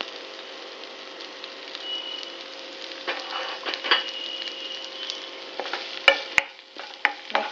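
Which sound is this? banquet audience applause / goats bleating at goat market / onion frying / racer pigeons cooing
onion frying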